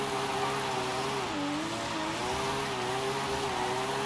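A 90s car in the racing game Forza Horizon 5 drones with a steady, loud engine note that dips briefly and recovers while driving, with no talking over it.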